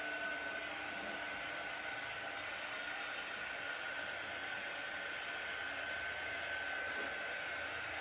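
A hair dryer blows on a freshly painted craft garland piece, a steady, close, constant whoosh with a fixed motor whine that runs unbroken for the full stretch, with no talking.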